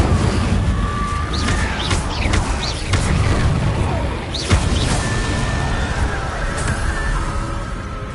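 Cast in the video game Hogwarts Legacy, the Incendio fire spell lands with loud booming bursts and crackling whooshes amid game ambience and a sharp impact about midway, with faint shrill tones in the background.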